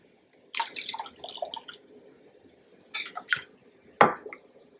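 Red wine poured into a crockpot of beef stew, a close liquid splash and gurgle lasting about a second and a half, followed by a few softer sloshes and a sharp wet clatter near the end.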